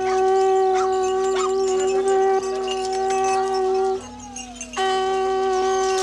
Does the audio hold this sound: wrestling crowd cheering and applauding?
no